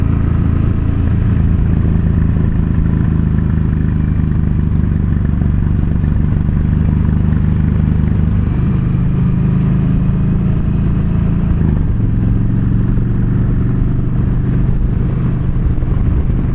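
A steady loud engine drone and road rumble from a motorcycle ride on a bumpy road, continuous with slight pitch shifts as speed changes, with heavy wind buffeting and no talk.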